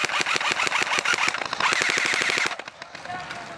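Airsoft gun firing in a rapid, loud automatic stream of sharp clicks that runs for about two and a half seconds, then cuts off to quieter background noise.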